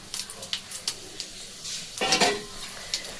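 Bori (lentil dumplings) and bitter gourd go into a sizzling pan while cooking shukto, giving a burst of frying hiss among light clinks and scrapes of a utensil against the pan, close by.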